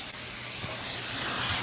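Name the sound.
baking spray with flour sprayed into cake pan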